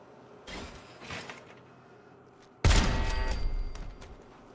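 Automated turrets open fire in Fallout 4, with a sudden loud, sustained burst of rapid gunfire after a few softer thuds in an otherwise quiet interior.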